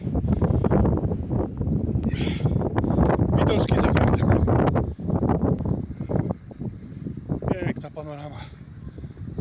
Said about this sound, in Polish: Trochę tu wieje, wieża się fajnie trzęsie